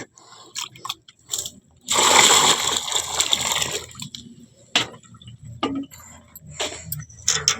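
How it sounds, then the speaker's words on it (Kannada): A cow drinks from water in a farmyard, giving a burst of loud splashing and sloshing followed by scattered slurps, drips and clinks, close by and with brief gaps of near silence. "ಮೊದಲ ನಮ್ಮ ಗೌರಿಗೆ ನೀರು ಕುಡಿಸಿ ಆಮ್ಯಾಗ ನಾನು ನೀರು ಕುಡಿದು ಹಾಲಿಂಡಾಗ ಹೋಗ್ತೀನಿ."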